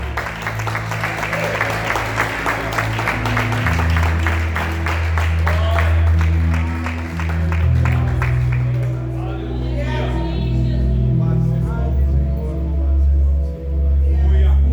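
Church congregation applauding in praise during a worship service, steady clapping for the first half over low sustained musical tones, then fading into voices and music.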